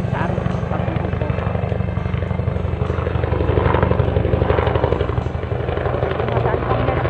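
A helicopter flies low overhead on a farm with a loud, steady rotor thump that swells slightly in the middle, while people talk over it.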